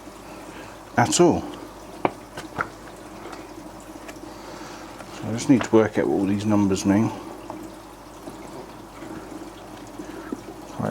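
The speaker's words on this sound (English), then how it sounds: "Here comes the water again." Water from a TMC Reef DC 2000 return pump pouring into a bichir aquarium tank, arriving in two splashing, gurgling bursts separated by a quieter stretch, while someone talks.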